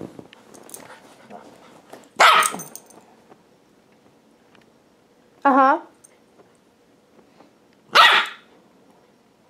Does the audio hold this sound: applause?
no